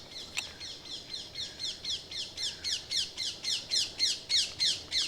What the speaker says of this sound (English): parakeet, one of my least favourite invasive birds because that sound just dominates everything